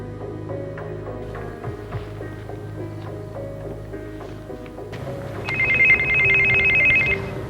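A telephone rings in an old military fort's artillery shed, a steady electronic trill starting partway through and continuing loudly over a low hum, with no talking.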